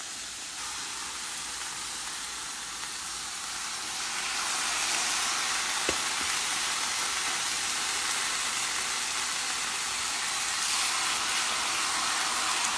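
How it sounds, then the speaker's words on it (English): Steady, close hissing sizzle of chicken on a hot grill, a bright crackling wash that grows a little louder partway through, with one sharp click. "Oh, and it's sizzling."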